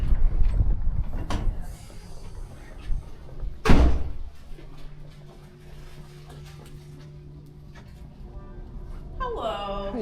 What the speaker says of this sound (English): The stage door is right off in this direction.